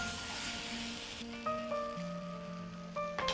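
Maida flour frying in a pan as a base for soup, a soft, fairly faint sizzle running throughout under steady tonal background sound.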